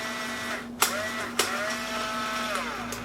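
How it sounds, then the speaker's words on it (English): A battery-powered Dye Rotor paintball loader whirs steadily up close, its rotor spinning with a smooth motor hum, broken by two sharp clicks and a pitch sweep as the spin speeds and slows. "when you stop shooting, the rotor will stop spinning"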